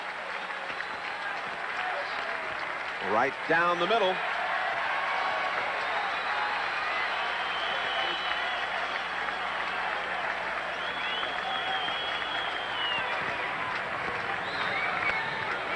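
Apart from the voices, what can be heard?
baseball crowd cheering at Cardinals vs Giants game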